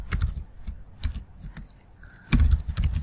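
Typing on a computer keyboard while writing template code produces quick, close clicks in uneven bursts, with a short pause before a final flurry of keystrokes.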